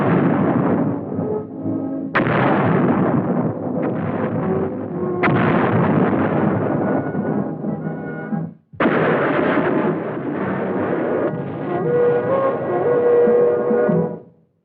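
Heavy field artillery guns fire in a series of deep booming blasts, each followed by a long rolling rumble, loud and close, with an old film soundtrack quality and no talking.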